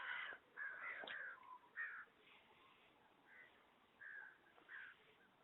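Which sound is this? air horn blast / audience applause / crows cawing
crows cawing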